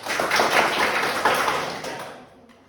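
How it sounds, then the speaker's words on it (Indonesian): A group of students in a classroom lesson clap their hands together, a brisk, loud burst of close clapping that holds for about two seconds and then fades away. "Oke, tepuk tangan dulu."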